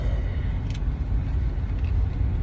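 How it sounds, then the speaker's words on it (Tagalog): Heavy road traffic with cars idling, a steady low engine rumble that stays loud and constant throughout, with no talk. "Eto ngayon, sobrang traffic."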